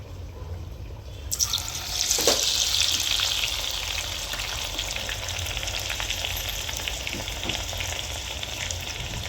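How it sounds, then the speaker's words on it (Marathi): Garlic and red chili powder hit hot oil for a tadka, with a sudden loud hiss after about a second that settles into a steady, close sizzle with faint stirring and no speech. "तेल गरम झाल्यानंतर यामध्ये आपण लसूण आणि लाल तिखट घालायचं आहे थोडंसं."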